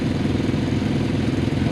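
Several motorcycles idle together nearby, including a Suzuki Katana, a Honda Monkey and a Grom clone, blending into a steady, loud, lumpy rumble.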